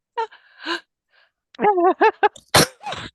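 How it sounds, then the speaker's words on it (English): A single sharp human sneeze bursts out close and loud, preceded by a few short gasping inhalations and followed by a brief breathy sound, during a leadership talk. "I'm going to sneeze."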